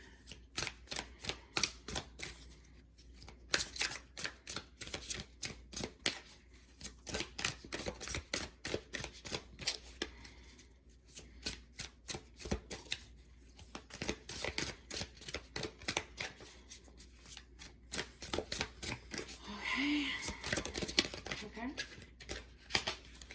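Tarot cards being shuffled and drawn, a dense run of quick, crisp flicks and riffles close to the microphone, pausing briefly now and then before resuming steadily.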